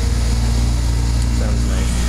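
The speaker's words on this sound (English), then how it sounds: "Now listen to this motor from here." A hotel ice machine's motor runs with a steady, loud, low hum and drone, continuous throughout with no breaks.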